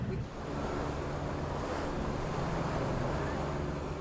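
Powerful ocean waves break on a jagged reef off remote Flint Island in the Pacific, a continuous loud roar of surf with wind, no voices.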